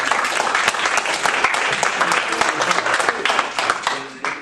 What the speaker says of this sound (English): There's no need to clap yet.